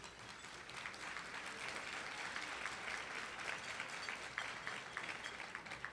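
A large crowd at a housing symposium keynote gives sustained applause, quiet and distant, with dense even clapping throughout and no talk over it.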